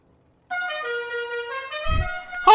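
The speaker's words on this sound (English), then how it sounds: "Honk, honk, honk, honk." A car horn in the video game Roblox Jailbreak blares in one sustained, bright honk lasting about two seconds, loud and close, with a brief thump near the end and no speech.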